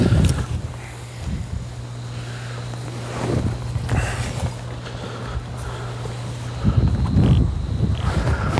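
Steady wind buffeting a microphone, with low rumbling gusts and a faint rustle, loudest near the end; no one speaks.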